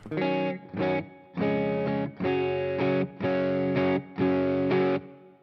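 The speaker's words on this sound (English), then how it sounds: "this is just with a little spring reverb" Electric guitar strummed in a rhythmic pattern of chord bursts with brief gaps, slightly overdriven through an amp and washed with a springy reverb tail, played alone and close.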